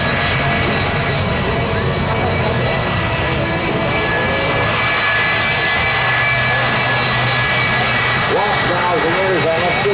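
Jet-engine roar from a 1957 Chevy truck fitted with jet engines and an afterburner, a loud, dense, continuous rumbling blast filling the whole clip, with people talking underneath.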